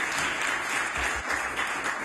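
Applause in a legislative assembly during question period, a dense, steady wash of many hands clapping at even volume for about two seconds, with no voices standing out.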